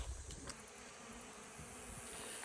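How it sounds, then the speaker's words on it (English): Honeybees buzz in a steady, faint drone around six beehives on a farm, a soft continuous hum with no one speaking. "we have some bees. You can see there are 6 beehives."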